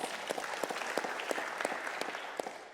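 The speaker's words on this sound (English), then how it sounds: "Applause." Quiet but dense applause from a live talk-show audience in Amsterdam, many hands clapping together in an even, continuous patter, slightly distant, with almost no talk.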